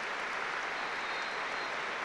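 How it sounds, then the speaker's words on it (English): A full football stadium crowd applauds steadily before an Ireland versus England international, a broad distant wash of clapping that holds evenly with no voices on top. "there will be a moment's applause for Ray Tracy"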